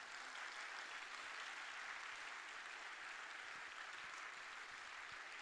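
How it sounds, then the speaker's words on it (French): An audience at an awards event applauds an Olympic bronze medallist and three-time world champion, faint but dense sustained clapping throughout. "Vos applaudissements."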